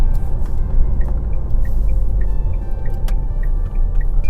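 A 2021 Tata Safari SUV driving in eco mode: a steady, loud low road rumble and engine drone fills the cabin, with faint periodic ticking above it and no talking.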